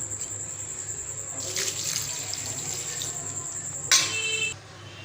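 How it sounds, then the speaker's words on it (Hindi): Water is added to a pan for aloo palak curry, a quiet steady pouring stream lasting a few seconds before it stops. "दो गिलास वाटर ऐड कर दिया"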